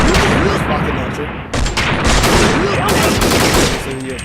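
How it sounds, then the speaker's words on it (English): Rocket launcher fire in a Mugen fighting game, a dense burst of loud rapid explosive blasts that runs on continuously with a brief dip partway through, under an excited commentator's voice. "rocket launcher."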